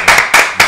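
Three sharp hand claps in quick succession, close and loud, evenly spaced with nothing else heard.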